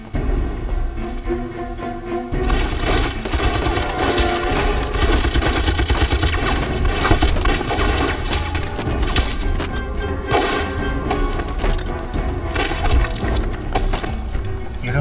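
Gunfire in a war film battle between Chinese special forces and Japanese troops: dense, loud bursts and booms over a continuous roar of action and music, with no clear pauses.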